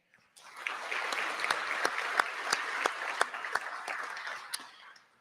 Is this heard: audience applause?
yes